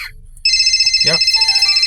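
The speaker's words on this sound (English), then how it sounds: "you hear that phone ringing, right?" A phone ringtone chimes loudly and steadily with a sustained tone, starting abruptly after a brief voice and continuing alone to the end.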